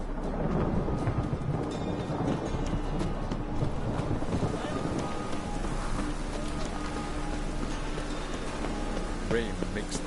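Rain and rolling thunder in a city in The Witcher 3 form a constant, broadband wash at moderate level, with low rumbles swelling beneath it and faint game sounds mixed in.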